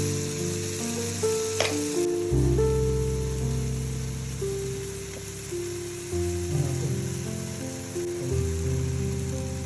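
Chili powder sizzling in hot oil for Tamil crab curry, a steady crackling fry that holds throughout beneath a faint tonal hum.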